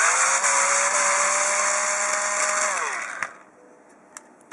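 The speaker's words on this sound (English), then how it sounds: "Take all 7 screws out around there, and the 7th one is right here." A powered screwdriver removes the seven screws from a game controller shell, whining steadily and loudly up close before spinning down, followed by a couple of small clicks.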